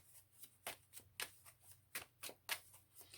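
Tarot cards are shuffled in quick, soft riffling bursts, several short flutters close by against a quiet background.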